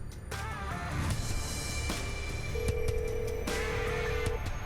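A phone line rings while a call is being placed, with tonal ring bursts and electronic beeps over a noisy background hum, moderately loud and repeating in uneven intervals.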